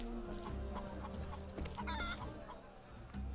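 Chickens in the video game Octopath Traveler cluck and chatter continuously over a busy background, with a brief squawk near the middle; moderate level, no talking.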